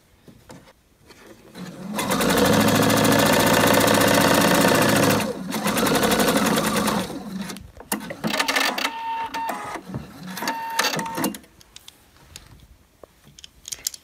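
A domestic sewing machine running a plain straight stitch with polyester thread on soft fabric, a close, rapid mechanical whir in two bursts, followed by quieter clicks and handling noises.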